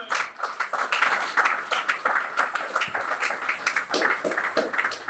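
A church congregation claps during a worship service, brisk uneven hand claps in a lively, moderately close wash that rises and falls throughout.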